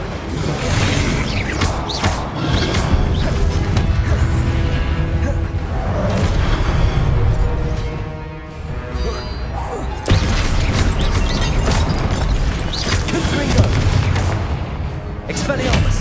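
Confringo blasting curses fired during spell combat in Hogwarts Legacy, heard as a dense run of loud booming blasts and crashes over a constant rumbling game soundtrack, with a voice speaking over the action.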